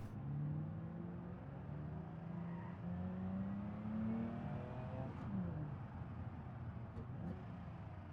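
An underpowered car in the driving simulator BeamNG, its engine droning steadily as it pulls through a gear, then dropping in pitch at a manual gearshift before climbing again, moderately loud and continuous.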